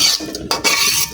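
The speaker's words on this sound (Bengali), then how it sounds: "আমি চালগুলোকে একদম ভাজা ভাজা করে নিছি" Polao rice being fried and stirred in a pot for beef tehari, close scraping and clattering of a spoon against the metal with a steady hiss underneath.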